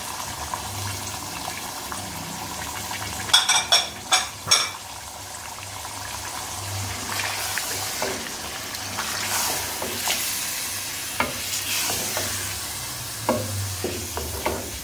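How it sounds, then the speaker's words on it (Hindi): A spoon stirs chicken with coriander, cardamom, nutmeg, mace, salt, chilli and turmeric in a pot for green masala biryani, giving a steady scraping and light sizzle with a cluster of sharp clinks partway through, close and moderately loud. "अब इसको तकरीबन आपने 1-2 मिनट चम्मच चलाना ताकि मिक्सिंग हो जाए"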